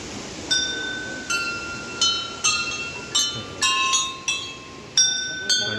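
Votive bells hung in a bell garden at a temple in Mahalunge village in the Konkan give about a dozen irregular metallic clinks, each ringing briefly before fading, over a low background murmur.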